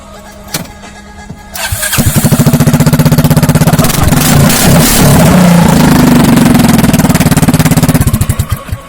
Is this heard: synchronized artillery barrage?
no